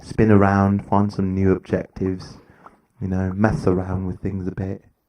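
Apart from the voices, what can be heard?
No distinct noise like a dog, phone or traffic.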